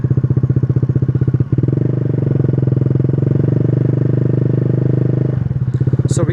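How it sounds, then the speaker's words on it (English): A Yamaha Zuma 125 scooter engine fires up and runs at a steady, loud idle close by, its rapid pulsing putter holding for several seconds before the engine cuts off near the end. "Let's start it up."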